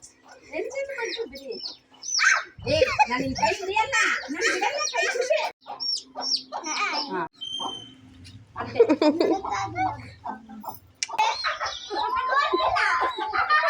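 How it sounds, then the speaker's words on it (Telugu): Chicks and hens cluck and chirp around a village house, heard close and intermittently beneath steady talking by adults and a child. "ఇది కోడి పిల్లలు చూడండి ఇంట్లోనే పిల్లలు పెట్టింది"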